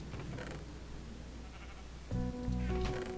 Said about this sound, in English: The sheep farm is running strong.